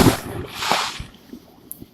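Fourth of July fireworks shoot straight up from a small launcher at night, giving a sharp burst and whoosh followed by a few fainter pops and crackles nearby.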